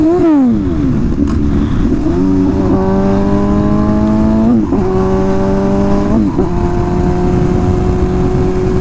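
A rare, custom-built MV Agusta Rush motorcycle engine revs loudly and close, rising and falling through several throttle sweeps with a steady, powerful drone that echoes off the surroundings.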